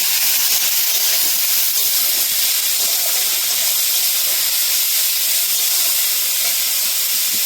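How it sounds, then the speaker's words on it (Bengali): Chowmein ingredients fry with salt in a hot pan, giving off a loud, steady, close hiss of sizzling. The sound holds almost unchanged for several seconds with no pauses. "লবণ দিয়ে দিচ্ছি, কিছুক্ষণ ভেজে নেব"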